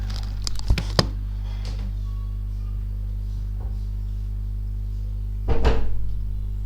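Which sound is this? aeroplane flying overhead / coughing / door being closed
door being closed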